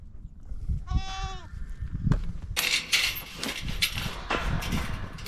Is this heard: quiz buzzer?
no